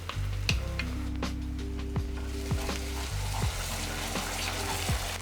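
Ketchup going into a sizzling pan with paprika for barbecue meatball sauce, a steady close sizzle over a low droning hum, with a few soft clicks and stirring scrapes.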